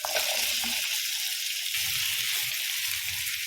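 Curry leaves fry in hot oil with a constant bright hiss and faint low bubbling underneath, close and steady, with no voices.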